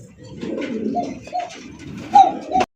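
Several pigeons cooing close by in low, throaty murmurs, overlapping, with a brief sharp knock near the end.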